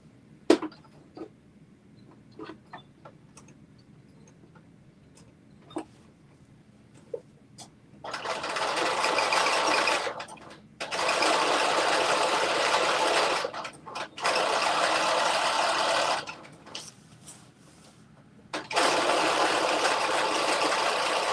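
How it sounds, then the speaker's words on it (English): A home sewing machine stitches a garment seam in several sustained running bursts separated by short pauses, with sparse clicks and handling taps before the first run; close and steady. "now I'm going to just stitch along this line"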